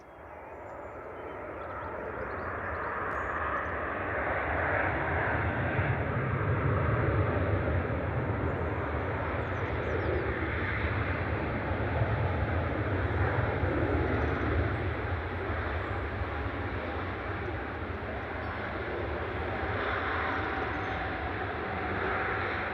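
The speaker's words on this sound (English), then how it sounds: "here's the A380, everyone, coming in from Dubai" An Airbus A380 airliner from Dubai approaches Manchester Airport in the evening: a broad, continuous engine roar that stays loud and steady throughout, with a constant rushing hiss.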